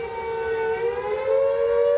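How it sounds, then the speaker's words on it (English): A World War II era civil defense siren sounds a flood warning in West Yorkshire, a steady, sustained wailing tone heard alone at fairly close range for the whole stretch. "sirens dating back to World War II warned of flooding"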